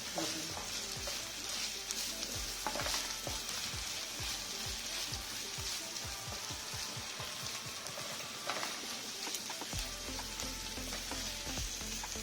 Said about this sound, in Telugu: అల్లం వెల్లుల్లి పేస్ట్ నూనెలో వేసినా కూడా అది కూడా స్ప్రింకిల్స్ వస్తాయి వంటకి